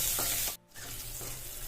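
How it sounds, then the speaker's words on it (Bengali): Raw onion stirred into hot oil with nigella seeds and dried chillies gives a loud, close, steady sizzle, briefly broken by a short dip midway before the frying hiss resumes. "কাঁচা পেঁয়াজটা দিয়ে এবার একটু নাড়াচাড়া করবো।"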